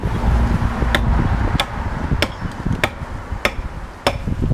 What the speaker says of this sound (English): And now, coming more with the hatchet, more up against